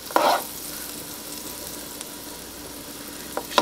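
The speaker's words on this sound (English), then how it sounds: "so sauteing your carrots can take a while" Carrots and broccoli sautéing in a pan for vegetable fried rice, a soft steady sizzle with a brief stir or clatter at the start and a few light clinks near the end, no talking.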